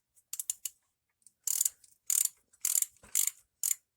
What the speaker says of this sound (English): Now that's a 9/16 on that cam gear. So we're going to go ahead and tighten on this a little bit.